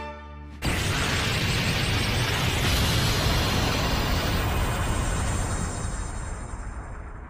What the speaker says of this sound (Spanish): ¿Qué fue esa explosión?